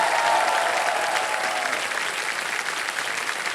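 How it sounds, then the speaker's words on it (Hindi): Steady, full audience applause in a TV quiz show studio, dense and continuous clapping throughout with no talk over it. "तालियां बजती रहे"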